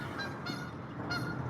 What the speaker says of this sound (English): We are live in the Walmart parking lot, getting honked at by geese.